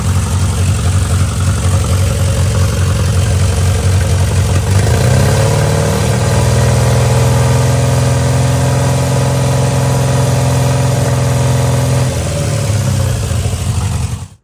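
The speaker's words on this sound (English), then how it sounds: "Let's rev it up a little." An old Barn Sprite car engine idles loudly up close, then its pitch rises as it is revved and held higher for several seconds before easing back toward idle.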